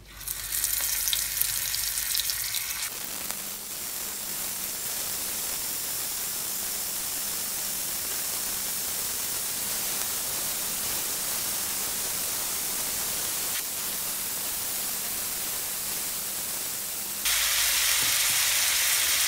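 Marinated prawns fry in a pan with a loud, dense, continuous sizzle and crackle that stays close and steady throughout, alone without talk.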